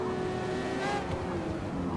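The Mazda Furai race car in Forza Motorsport, driven at Fujimi Kaido, gives a loud, steady, close engine drone throughout.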